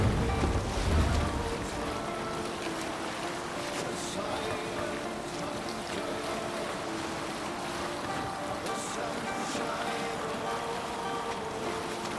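A sailing ship pushing through waves in the Viking game Assassin's Creed Valhalla: a steady wash of water and wind with creaking hull sounds, a heavier splash at the start, continuous and fairly close.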